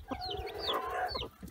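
A broody Indian hen with one-to-two-day-old chicks makes soft, repeated clucks close by, with faint high cheeps from the chicks over the top.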